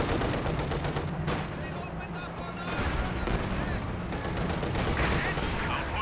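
Gunfire in the World War II strategy game Company of Heroes 2, with rapid bursts of machine-gun and rifle fire rattling in clusters over a constant battle din, some heavier thuds mixed in, and talk running underneath.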